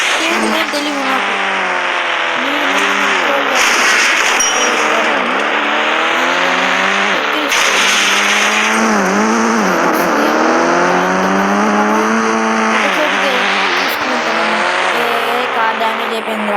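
In the Indian Bikes driving video game, a car engine revs up and down repeatedly with squealing tires, skids and a crash, loud and continuous, while someone talks over it.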